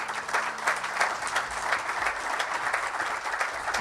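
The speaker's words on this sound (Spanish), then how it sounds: "Recibamos con un fuerte aplauso a Jaime Maussan" A conference audience breaks into steady, dense applause to welcome a speaker, Jaime Maussan, at a ufology congress in Barcelona. The clapping sounds close and continuous and holds the same level throughout, with no talking over it.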